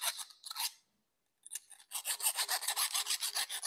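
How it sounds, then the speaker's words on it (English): Round file worked inside a cut pipe in a plumbing workshop, close rasping strokes, a few short passes, a pause, then a quick rhythmic run of about a dozen even back-and-forth scrapes. "We're going to need a round file for the insides."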